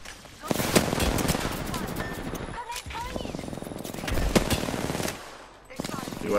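Automatic weapon fire in the Apex Legends video game, several rapid bursts of shots separated by short pauses, loud and close, with a player's voice talking over it.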